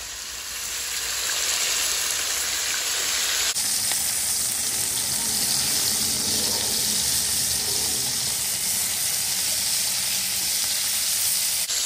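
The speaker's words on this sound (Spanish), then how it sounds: "Voy a freír el pollo por 2 minutos de cada lado." Chicken pieces fry in hot oil in a pan over high heat, giving a loud, steady sizzle that crackles continuously and gets a fresh surge partway through, with no voices.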